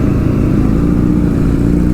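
A Kawasaki Ninja ZX-10R superbike revs steadily on the road during a wheelie, a loud, close, sustained engine drone with no talk.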